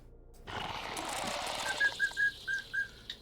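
A pet bird named Speckles whistles a series of about five short, clear, evenly spaced notes over a steady background hiss, fairly close and moderately loud.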